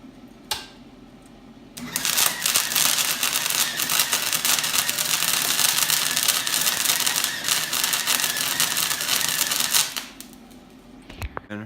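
A stick welder arcs with a dense, loud crackling sizzle that runs steadily for about eight seconds, starting and stopping abruptly, with quieter handling noise before and after.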